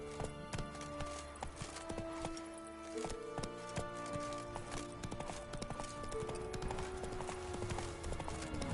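Roach the horse in The Witcher 3 walks with steady, moderately paced clip-clopping hooves close by, a rhythmic four-beat pattern lasting throughout, layered over tonal game music and ambient drones.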